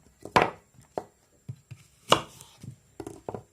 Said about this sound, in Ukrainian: нарізаю всі яблучка